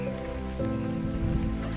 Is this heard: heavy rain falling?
yes